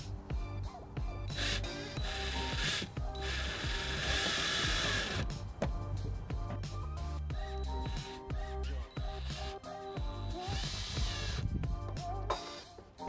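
A ratchet tightening bolts on the tail light of a 2003 Pontiac Aztek, giving fast, close clicking bursts with short pauses between runs of turns, heard alone without speech.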